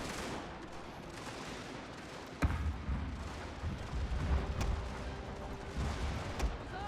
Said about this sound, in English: Canister, continuously fire canister at them.